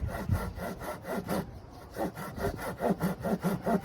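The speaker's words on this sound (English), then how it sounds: "When we saw right through, once we're through, we close the saw up." A hand saw cuts through a piece of clamped wood in a steady back-and-forth rhythm of rasping strokes, close and fairly loud, with no talking.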